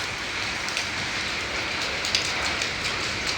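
Steady rain in Goa pattering on a surface, a constant hiss with occasional louder drops, no voices.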